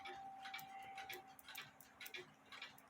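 Cuckoo clock mechanism ticking faintly and steadily in a quiet room, soft regular clicks over a low constant hum.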